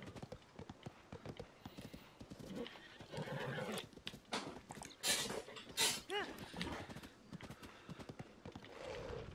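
A horse in Zelda: Tears of the Kingdom neighs and whinnies over rhythmic clip-clopping hooves as it gallops, with game music and effects layered in.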